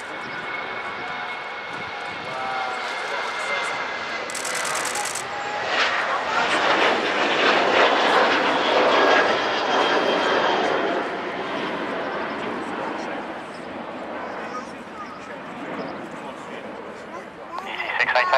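Jet aircraft engines roar at Manchester Airport near runway 23, rising in a broad, loud swell and then easing off, with faint radio chatter under the noise.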